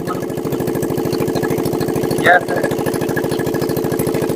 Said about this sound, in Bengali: গরিবের স্পিড বোট